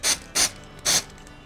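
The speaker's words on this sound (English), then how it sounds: "I'm going to spray this" Three short hissing bursts of aerosol accelerator sprayed onto foam, close and crisp with brief pauses between them.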